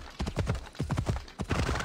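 Horse hooves clip-clop in Assassin's Creed Odyssey: a brisk run of close, fairly loud hoofbeats in quick clusters with a brief lull midway, no speech over them.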